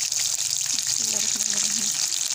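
Fish pieces for korma frying on low heat in a pan, a continuous broad hissing sizzle up close, steady throughout with faint low tonal murmurs beneath.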